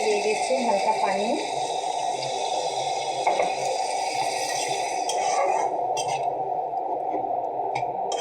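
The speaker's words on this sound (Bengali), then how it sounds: "দিয়ে দিচ্ছি হালকা পানি।" A little water poured into a pan of fish head cooking with tomato and spices, a steady, close splashing pour and bubbling hiss that continues for several seconds before thinning out near the end.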